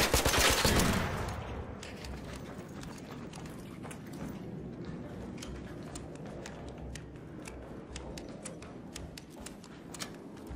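Rapid video game gunfire: a loud burst at the start, then a steady stream of crackling shots continuing at a quick, uneven rhythm.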